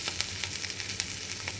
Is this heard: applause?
no